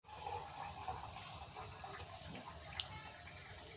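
Water splashes and runs steadily into a pan of ground peanuts for a few seconds, fairly quiet, with a small clink near the end.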